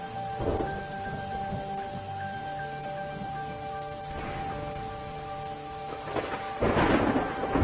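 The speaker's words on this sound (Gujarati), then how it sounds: "દાહોદના લીમખેડામાં ભારે પવન સાથે વરસ્યો ધોધમાર વરસાદ" Heavy downpour with strong wind in Limkheda, Dahod, a steady roar of rain on surfaces with thunder rumbling through and bursts of louder, closer thunder near the end, with no talk.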